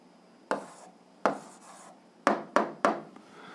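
Pen strokes on paper while an algebra equation's answer is written out, five short scratchy bursts spaced irregularly, close and fairly quiet, with no talking.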